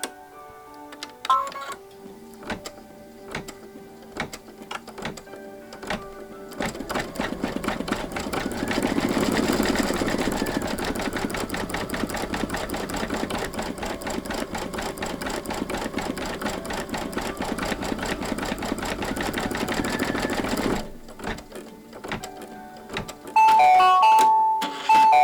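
A sewing machine stitches the nose of a bunny pillow wrap with pink thread, running in a steady fast mechanical whir for about fifteen seconds, framed by scattered clicks and ticks before and after.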